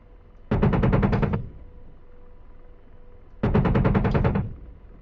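Two bursts of rapid machine-gun fire from DCS World combat flight simulator, each lasting about a second and separated by a few seconds of low engine hum, loud and close.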